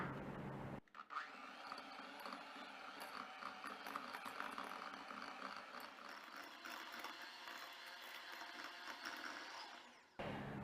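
An electric hand mixer runs at medium speed beating cream cheese for a mini burnt cheesecake, a steady motor whir with gritty beater rattle for about nine seconds, starting and stopping abruptly.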